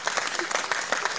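Scattered audience clapping at a heated hip-hop debate panel, a short burst of claps and light crowd noise with some voice underneath.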